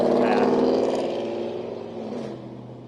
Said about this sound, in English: wait for the loud truck to pass